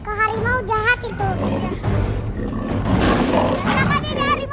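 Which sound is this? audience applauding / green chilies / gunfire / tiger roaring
tiger roaring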